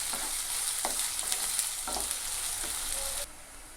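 Onion sautés in hot oil with a steady crackling sizzle, while a spoon scrapes and stirs it in a few distinct strokes, close up with no talking.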